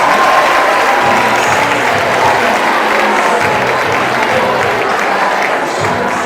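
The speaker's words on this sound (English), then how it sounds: "a round of applause for Volta House" Audience applause for a school house team placed fourth in a points competition, a steady, dense wash of many hands clapping that holds loud and even throughout.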